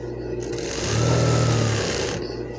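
A sewing machine stitches a sugar-cut gown, a steady continuous motor hum that swells louder in the middle run and eases off toward the end, close by and without talk.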